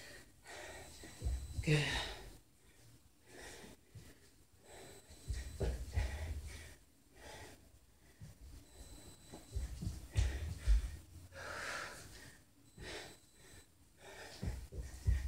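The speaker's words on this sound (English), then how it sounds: "Make sure you're breathing, as you can hear me." Heavy, rhythmic breathing of someone doing crunches in a home fitness workout: puffs and gasps rise and fall in bursts between quieter stretches, with a short spoken word of encouragement.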